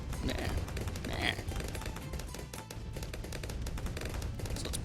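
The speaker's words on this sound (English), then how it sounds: "we're going to keep on spamming some lower tier cannons for a while" Low-tier cannon towers in Bloons TD 6 fire in rapid repeated thumping blasts, dense and continuous over game music, with a few louder pops near the start and a faint voice now and then.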